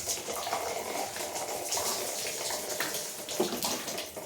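Water poured from a can or tap onto damaged petunia plant plugs in a flat, a steady close splashing trickle lasting several seconds.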